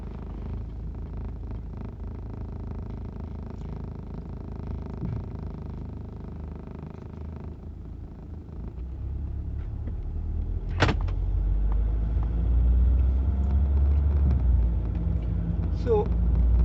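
Rover 75 Connoisseur SE CDTI diesel car pulling away in sport mode, heard from inside the cabin as a steady engine rumble that swells after a brief click and a rising whine, with a voice speaking over it early on.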